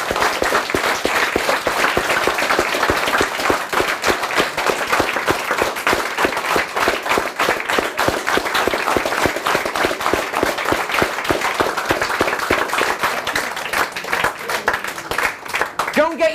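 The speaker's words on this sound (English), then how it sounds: "give everyone around you the biggest round of applause that you can muster" A large crowd at a sales seminar breaks into dense, sustained applause, loud and continuous for the whole stretch with voices mixed in.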